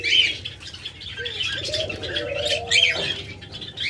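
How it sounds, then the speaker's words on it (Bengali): Silver doves kept for sale give soft cooing calls with a few brief chirps, fairly close and steady over a background of other birds, with no talking. "আমাদের কাছে ঘুঘু পাখির অভাব নেই, প্রচুর ঘুঘু পাখি"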